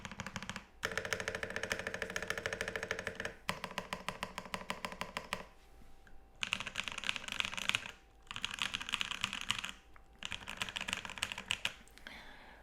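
Fast, crisp typing on a Drift Mechanics Forever 65 mechanical keyboard, a dense run of close, loud clicking keystrokes in several bursts separated by short pauses, with no talking.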